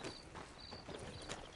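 Horse hooves clip-clop at a steady walking pace in the video game Red Dead Redemption 2, soft and regular beneath ambient game sound.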